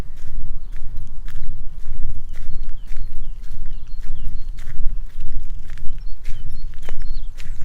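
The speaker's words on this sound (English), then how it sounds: "Maybe you can hear my footsteps" Footsteps of a person walking outdoors along a path behind houses toward the sea, a steady run of crisp, close steps on a hard surface over a low rumble of outdoor ambience, with faint birdsong and no talk.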